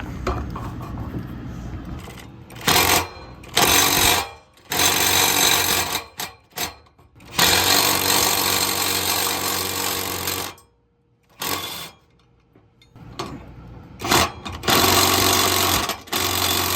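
Worx Nitro impact driver used on an RV accessory hitch and receiver install: loud, close bursts of rapid rattling hammering, each lasting one to three seconds, separated by short silences, with no talking.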